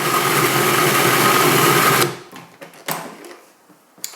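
A Cuisinart food processor whirs steadily as it mixes basil pesto with cheese, a loud motor drone for about two seconds that cuts off abruptly, leaving light clatter and handling sounds.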